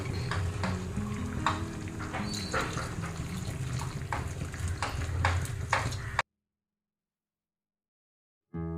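First coconut milk poured into a simmering potato stew gives a soft, steady bubbling and liquid stirring sound, close and fairly quiet, ending abruptly before a brief return of noise.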